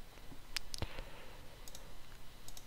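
A computer mouse clicks sharply a few times, sparse and close, while editing in Adobe Premiere Pro, over a faint hiss with no speech.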